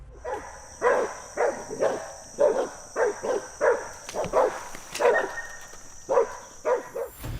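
Hunting dogs barking in rapid repeated bursts, a steady run of loud, close woofs with brief gaps between them and a thin high whine running underneath.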